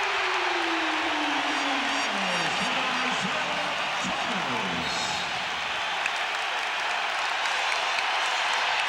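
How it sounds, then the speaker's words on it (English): A basketball arena crowd roars at The Palace of Auburn Hills during a Bulls versus Pistons playoff game, with a loud continuous wash of cheering that swells throughout and no break. "Here comes the crowd."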